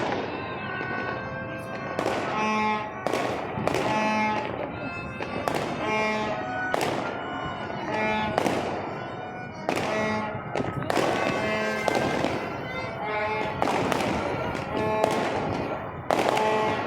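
Fireworks on the night of 14 August, Pakistan's Independence Day, burst again and again with booming thuds and crackling pops, some near and some far, overlapping continuously.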